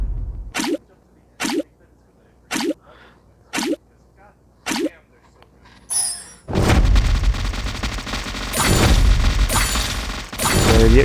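Crab monster in a video game firing, heard as five sharp, evenly spaced shots, then a sustained loud burst of rapid fire with no talk.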